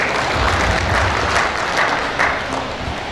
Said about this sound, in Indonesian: Kita beri tepuk tangan yang meriah sekali.